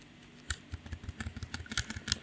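Fingers tap a computer keyboard while Python code is edited, producing quick, irregular, close-up clicks in short bursts, with no voice over them.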